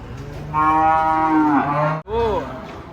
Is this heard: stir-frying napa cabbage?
no